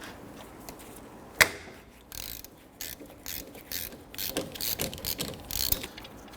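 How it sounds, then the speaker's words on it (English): A ratchet with a 17mm socket loosening the lower brake caliper slide pin on a 2006-2014 Honda Ridgeline, with a sharp crack as the pin breaks free followed by quick rapid clicking bursts, close and fairly quiet. "Now we're gonna use our 17mm socket. We wanna go ahead and loosen and remove this lower slide pin"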